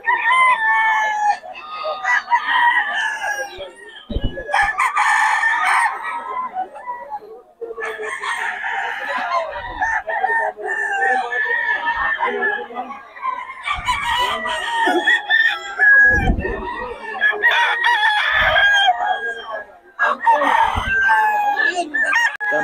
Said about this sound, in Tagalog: Solid ang mga manok ni Boss Batang.